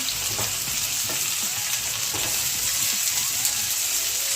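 Malabar spinach and mussels sizzling and frying in a pan while being stirred, a dense continuous hiss with occasional scraping stir strokes, close and steady with no talk.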